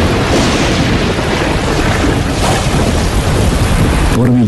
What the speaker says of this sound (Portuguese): Por milhões de anos, enquanto o planeta esfria, a chuva cai, formando poças, lagos e, eventualmente, os nossos oceanos.